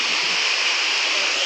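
A waterfall roars steadily and close by, a dense, unbroken rush of falling water that fills the whole moment with no voices over it.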